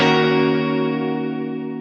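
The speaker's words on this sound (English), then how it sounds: "And what you end up with is this very digital sounding reverb." A Sequential Pro 2 processes guitar into a digital delay-based reverb tail. A sustained, bright, sharply pitched chord decays slowly and evenly with slight pitch modulation and no voices.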